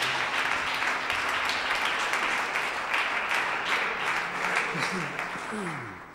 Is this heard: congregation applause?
yes